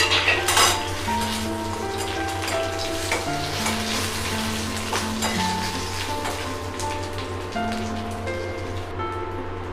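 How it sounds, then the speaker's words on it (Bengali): Dried red chilli, bay leaf and whole cumin dropped into hot oil for khichuri, crackling in a steady, fairly loud sizzle, with metal utensils clinking against the pot and a low hum underneath. "প্রথমে শুকনো লঙ্কা, তেজপাতা আর গোটা জিরে আমি দিয়ে দিচ্ছি।"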